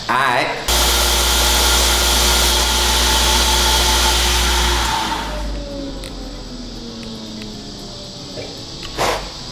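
A power grinder shaping a hickory or oak knife handle for a knife made from a shovel, a loud sustained whirring grind that winds down midway and fades into a quieter hum with light clicks.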